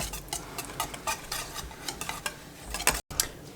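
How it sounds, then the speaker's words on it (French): Rapeseed oil being stirred into a cake batter in a bowl, with rapid, steady scraping and clinking strokes of the utensil running throughout and a brief pause near the end. "On ajoute ensuite 60 grammes d'huile de colza, on vient mélanger."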